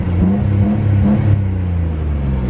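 Nissan Skyline GT-R R33 engine revved with the accelerator valve controller fitted, a loud, close, steady rumble with rising and falling pitch over a couple of seconds, no talking.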